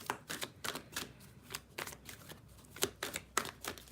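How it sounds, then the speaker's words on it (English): Tarot cards being shuffled by hand, a rapid series of crisp riffling and slapping bursts with short gaps, close and fairly quiet with no talking. "let me finish shuffling and see what we get for our new crime deck"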